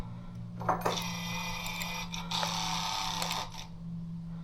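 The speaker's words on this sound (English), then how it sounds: "hopefully this orientation is correct for the power valve. Let's do a cycle." A Yamaha TZR 250 R power valve servo cycles with a steady mechanical whir from a small electric motor, running continuously with slight shifts in pitch and two brief pauses, close and fairly faint over a low hum.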